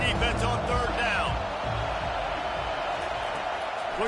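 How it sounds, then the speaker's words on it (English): Football stadium crowd roaring behind the home defense on a third-down play, a sustained loud broadband wash of voices with whoops, while a commentator talks over it. "Decibels rising as the crowd gets behind this defense on 3rd down."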